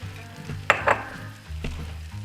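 Meatballs simmer in Trader Joe's roasted garlic marinara sauce in a pan, a soft bubbling sizzle with a couple of brief utensil scrapes and clinks against the pan, heard close up.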